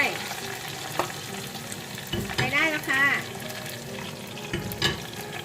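Sweet potato pieces deep-frying in hot oil with pandan leaves, a steady crackling sizzle with occasional stirring scrapes in the pan.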